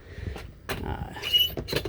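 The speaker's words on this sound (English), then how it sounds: "And the door, like I said, it opens fine. It does hit just a tiny bit right there" Wire dog cage door swinging open and lightly knocking against something, a few soft clanks and rattles spread over two seconds, close by.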